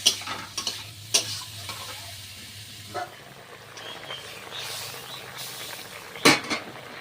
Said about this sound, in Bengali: পরিমাণ মতো লবণ হলুদ দিয়ে ভালো করে কষাই করে জল ঢেলে দেব